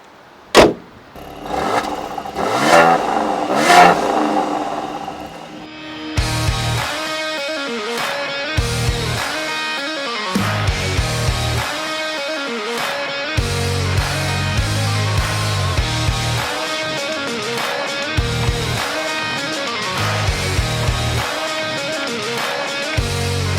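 A Mercedes-AMG C43 4MATIC Coupe engine revs hard, climbing through the gears in repeated surges with short dips between shifts, loud and close, no voices.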